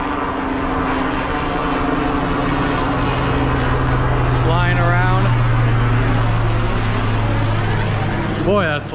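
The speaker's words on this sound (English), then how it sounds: "Got helicopters." Loud rotor and engine drone from helicopters passing close overhead, rising in pitch as they sweep by, with someone talking beneath.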